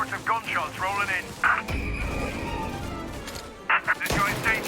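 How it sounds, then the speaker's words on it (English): Bursts of gunfire crack out between shouted voices in the video game Mafia, with a sustained rattle of shots in the middle, close and loud. "Reports of gunshots rolling in."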